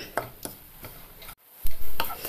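Spoon ticking and scraping against a pan while stirring grated coconut dry-roasting without ghee or oil, regular light taps near the mic with a brief silence and a couple of louder knocks.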